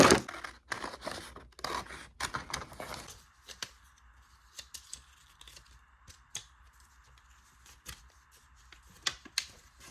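Scissors cut paper for journaling, giving a quick run of crisp, close snips and rustles at first, then sparser clicks and paper handling over a faint steady background hum, with no talking.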